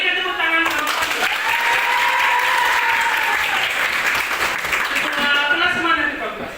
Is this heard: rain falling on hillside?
no